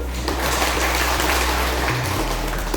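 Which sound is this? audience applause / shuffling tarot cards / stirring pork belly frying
audience applause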